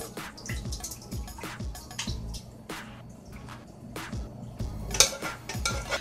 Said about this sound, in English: Next thing I'm going to do is add my meat that we browned.